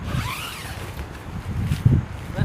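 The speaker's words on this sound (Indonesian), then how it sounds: "Resleting masih bagus." The zipper on a six-year-old Arei M29 tent rasps open in short, rough strokes, with soft fabric rustles and low thumps around it and no voices.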